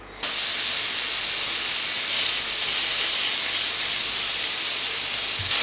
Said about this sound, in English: We're then going to deglaze it or deglaze it with the cider to make sure that we get every bit of flavour out.